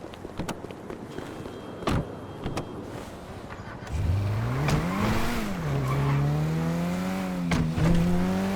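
A car in the video game Grand Theft Auto 5 pulls away after a few scattered clicks and thumps, its engine rising into a loud, steady drone that swells and dips with the revs.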